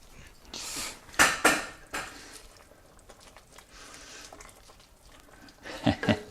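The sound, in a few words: stirring kale into lasagne soup in a pot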